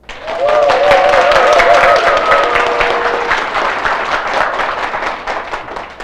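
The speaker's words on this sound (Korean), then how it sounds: "내가 다이아몬드다 박수 한번 들어볼까요?" An audience at a business presentation claps together in loud, dense applause that fills the hall for several seconds and slowly thins toward the end, with a brief voice-like tone rising over the noise early on.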